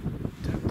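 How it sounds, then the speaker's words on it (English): Gusty wind buffets the microphone outdoors while wild camping in the Northumberland hills, a steady low rumbling roar with soft surges and no speech. "it's too windy everywhere else"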